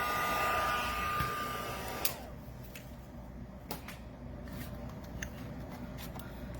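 Heat tool blows hot air to melt embossing powder on a stamped floral image: a steady airy roar for about two seconds, then it switches off, leaving soft room noise with a few light clicks and taps.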